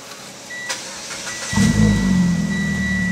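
A Mitsubishi Saber 23 wide-body car engine cranks and catches about halfway through, then settles into a loud, steady idle after a quieter stretch of background noise.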